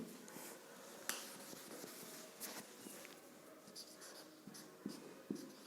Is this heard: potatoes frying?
no